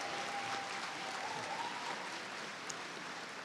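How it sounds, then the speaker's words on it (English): Sustained applause from a large crowd at a graduation ceremony, a steady dense wash of clapping that holds evenly throughout. "A round of applause for our baccalaureate graduates"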